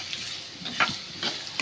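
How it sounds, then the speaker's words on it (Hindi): Chilli masala frying in a pan, a close, steady sizzle with a few quick stirring scrapes, no voices. "आतां बरो करून फ्राय करता।"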